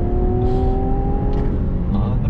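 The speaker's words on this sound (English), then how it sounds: "we're inside the Infiniti Q60 Red Sport 400 all-wheel drive from a dead stop" A 2021 Infiniti Q60 Red Sport 400 all-wheel drive coupe in Sport Plus mode with a 7-speed automatic accelerates from a dead stop, heard from inside as a loud, rising engine drone.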